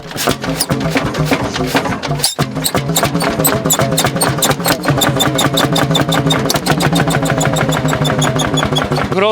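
An old tractor from the Polish communist era, bought in very poor condition, shown at an outdoor vintage vehicle show, with its engine chugging loudly and steadily at close range, a fast even knock throughout and talk underneath.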